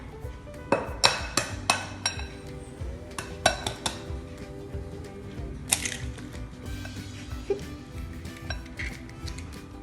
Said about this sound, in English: ஒன்னா மூணு எக் வந்து நல்லா மிக்ஸ் பண்ணனும்